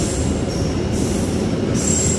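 The Gajayana executive-class passenger train, hauled by a locomotive, rolls through a busy Jakarta station, a loud, close, steady rumble of wheels on rail with a continuous high metallic squeal.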